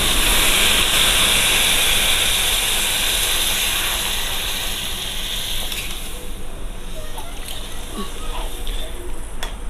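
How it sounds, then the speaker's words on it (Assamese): Water poured into a pan of rajma frying with masala sets off a loud, close steaming hiss that gradually fades into a quieter simmer. "মোৰ এতিয়া পানী দিয়া সময় হৈ গৈছে। মই এনেকৈ পানী দিছোঁ।"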